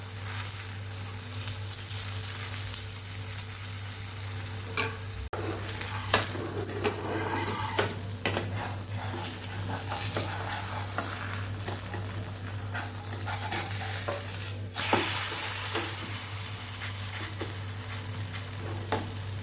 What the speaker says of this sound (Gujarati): બે સાઈડથી અલટ પલટ કરી અને સરસ આપણે પકાવી લેવાના છે